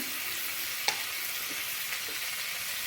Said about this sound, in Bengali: আলু দিয়ে একটু মশলার সঙ্গে কষে নেব